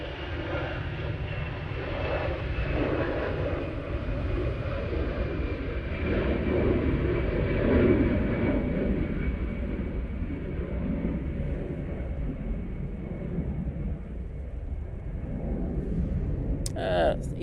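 EasyJet airliner departing Manchester Airport, a sustained low jet rumble with a slowly falling whine, steady and moderately distant, a brief click near the end.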